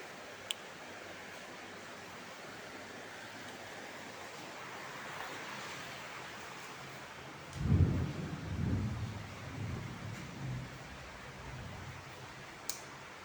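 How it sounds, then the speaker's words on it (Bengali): Heavy rain pours down in a steady, dense hiss, with a low rumble of thunder rolling through partway and fading out. "বৃষ্টি হচ্ছে মুষলধারে।"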